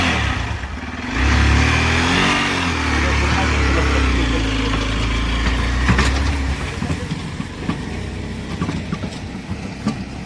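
A Hero Xpulse motorcycle towing a heavy loaded trolley revs up and holds a deep, loud drone for several seconds, then drops back to idling with rattles and clicks.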